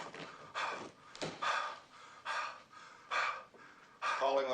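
A man performs an obscene phone caller's heavy breathing, a voice imitating the sound: about six loud, ragged pants and gasps come in regular bursts close to the mic, each separated by a brief pause.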